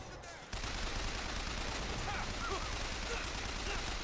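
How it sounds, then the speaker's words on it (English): Enemies open fire on the player in BioShock, a sudden loud, dense barrage of gunfire that kicks in after a brief lull and rattles on steadily, with scattered game sounds mixed in. "Stop shooting shit at me"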